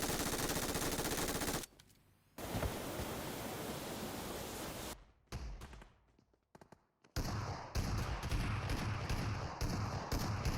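Loud bursts of automatic gunfire in the shooter game Metro Royale, sustained volleys broken by short pauses and sharper scattered shots, with no talk over them.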